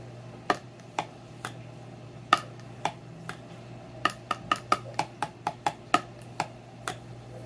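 A homemade paper xylophone struck with chopsticks, sparse dry clicking taps that turn into a quicker, evenly spaced run of about a dozen light, hollow knocks as a simple tune is picked out, close and faint over a low hum.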